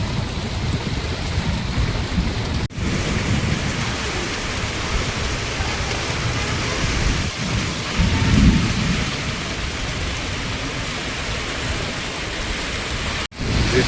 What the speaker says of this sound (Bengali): অতি ভারী বৃষ্টি হচ্ছে।